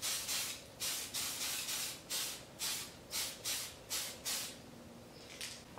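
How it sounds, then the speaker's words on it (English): Short bursts of spray paint hiss in a steady rhythm, about a dozen close, even sprays with brief pauses between them, coating bedliner on an RC vehicle. "Now we're going to spray another hefty coating of paint on top of that."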